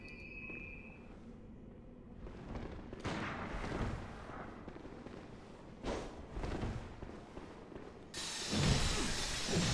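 A hunter's gun fires in Bloodborne, giving several loud booming shots with rattling mechanical noise in between. The shots sit over a low game ambience, with a strong blast near the end.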